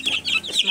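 Young incubator-hatched chicks cheep in quick, high, overlapping peeps close by, with bright repeated chirps in a brief burst and no talk.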